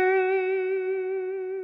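A single sustained electric guitar note with rich, steady harmonics and light effects, shaped by a gentle floating-hand vibrato that makes the pitch waver slightly as it rings out clearly and alone.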